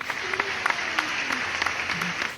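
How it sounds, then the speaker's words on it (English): Applause fills the whole stretch, a dense crackle of many hands clapping at moderate loudness with a few sharper claps poking through. "Insert applause here."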